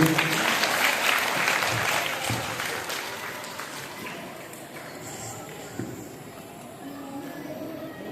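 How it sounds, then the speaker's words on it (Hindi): A crowd at a taluka quiz competition final applauds a prize winner with sustained, dense clapping that slowly fades over several seconds, with voices mixed in. "जोरदार तालियां बजा दे भाई इनके लिए"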